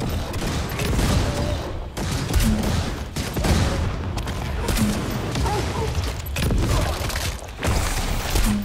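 Grenade launcher firing in the video game Necromunda: Hired Gun, a dense barrage of loud booming blasts and gunfire bursts that repeat every second or so amid continuous battle noise.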